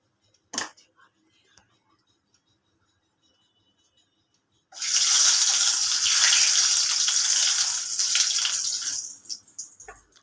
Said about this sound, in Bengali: আলুগুলো একটু কচলি নিয়ে ভালো করে ধুয়ে নিলাম